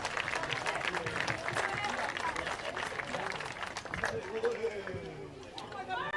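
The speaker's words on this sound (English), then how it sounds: "Please join me in one final warm round of applause for these outstanding organizations" Crowd at a Little League all-star championship tournament applauds, a steady mass of clapping mixed with chatter and voices throughout, tapering slightly toward the end.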